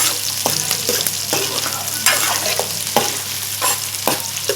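Onions fry in a pan as the base for a fish curry, a steady close sizzle broken by repeated scraping stirs at a regular pace.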